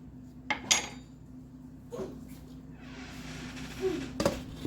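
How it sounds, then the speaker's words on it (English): A spoon stirring chicken soup in a pot, giving a few distinct metallic clinks and scrapes against the pot over a quiet background. "I'm going to give it a little stir just to get all the stuff inside the broth."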